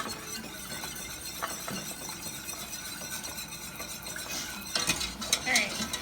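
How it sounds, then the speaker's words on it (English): An egg mixture is whisked in a bowl with a rapid, steady clinking scrape of the whisk against the sides, fairly quiet and close, briefly louder near the end. "And I'm gonna whisk it together until it is blended."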